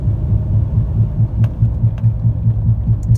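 A failing front differential on a 2004-2015 Nissan Titan pulses steadily while the truck is driven, a low rhythmic throb of about four beats per second over constant road and engine rumble, with no talking.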